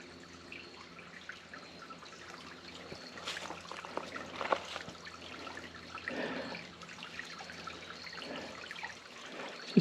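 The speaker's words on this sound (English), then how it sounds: "I love to hear the water" A pretty little stream running along a hiking trail, its water trickling and gurgling steadily and softly for the whole stretch, with a few brighter splashes near the middle, heard close by and alone with no voices.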